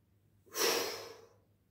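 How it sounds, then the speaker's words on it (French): One long, close exhale during a karate relaxation exercise, a breathy rush that swells quickly and then fades slowly, heard alone against a quiet background. "reprenez tranquillement votre souffle, une respiration bien fluide"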